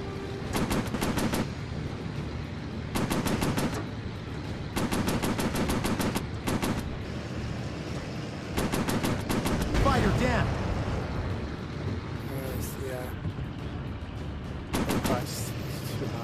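WWII warplane machine guns in a VR flight game rattle in repeated loud, short bursts while strafing ships, separated by engine drone and the hum of the cockpit, with a heavier blast near the middle.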